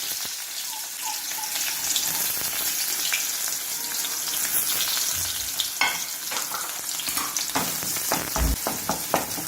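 Small onions and garlic sauté in hot oil for a village-style dry fish curry, a steady close sizzle and crackle running throughout with occasional scraping stirs and clinks toward the end.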